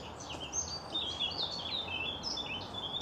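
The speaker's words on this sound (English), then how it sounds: "There's two garden warblers" Two garden warblers singing outdoors on a nature trail, quick bright warbling phrases at moderate distance over a soft steady background hiss, with no talking.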